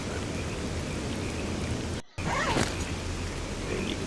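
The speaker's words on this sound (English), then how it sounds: "Excuse the rain outside, it's a little heavy." Heavy rain pours steadily outside as a dense, constant hiss with a brief drop in the middle, loud and unbroken, with no voices.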